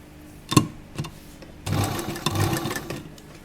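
A sewing machine stitches an A-line jacket dress with an inner collar in short bursts, brief clicks and whirs first, then a longer steady run of stitching, fairly close and alone.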